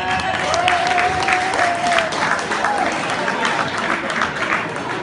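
Studio audience applause on an Italian television show, sustained clapping from a crowd at moderate loudness while a voice speaks briefly over it.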